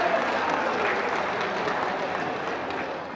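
An audience at a programme with PM Modi in Odisha breaks into loud, steady applause, a dense crowd of clapping that fades slightly toward the end while a voice speaks over it.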